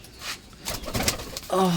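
Jhuppa and black Mosaldom pigeons coo in a low, throaty burst near the end, amid rustling and flutter-like noise in an enclosed loft.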